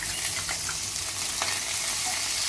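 Butter melting in a hot pan gives a steady, close sizzle and crackle with a few light scrapes, running alone without any talk.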